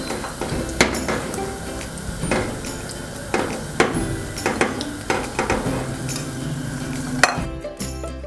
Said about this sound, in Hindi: अब हम तेल गरम करेंगे और भिंडी फ्राई करेंगे।